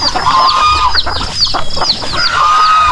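Farm chickens clucking and calling close by in a rapid, overlapping run of sharp bursts, loud and busy over a faint rustling background, with no talk.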